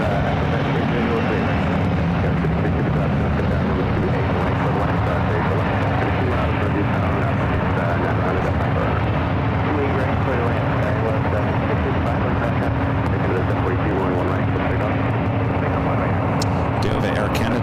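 An Air Canada Airbus A220-300 at San Francisco airport gives a steady, broad jet roar with a constant hum, sustained through the whole stretch, with muffled voices faintly underneath.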